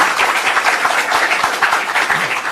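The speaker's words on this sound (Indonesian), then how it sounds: "Boleh kasih tepuk tangan." Close, lively applause from a group, many hands clapping at once in a dense, uneven patter.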